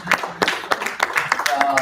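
Audience at a convention in Boston clapping in a short, scattered burst of hand claps, fairly close, with a voice talking over it.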